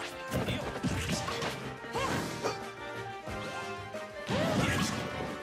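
Forward smash attacks land in a Super Smash Bros tournament match, with repeated sharp crashing impacts and swishes amid busy game sound effects, while commentators talk over them.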